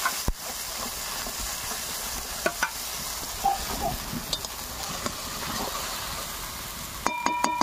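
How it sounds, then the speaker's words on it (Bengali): Spiced chicken curry with tomato cooks in a pan under a steady hissing sizzle, with a utensil scraping and tapping now and then, heard up close. "সব দিয়ে নিলাম, নাড়িয়ে নিচ্ছি।"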